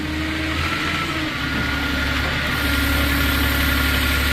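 2015 Moffett M8 55.3 truck-mounted forklift engine running, a loud, steady diesel drone close by with low humming tones. Around midway the pitch shifts slightly as the revs rise and settle. No voices are heard.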